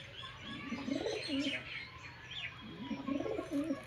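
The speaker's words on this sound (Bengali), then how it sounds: "মাদি পয়রা ম্যাড্রাস" A female Madras pigeon cooing up close in repeated soft, throaty phrases with brief pauses between them, someone talking quietly in the background.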